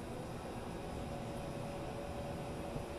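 A laptop vacuum cooler fan runs steadily, producing a constant broadband whooshing hiss with a faint steady tone, close and even throughout without any talk.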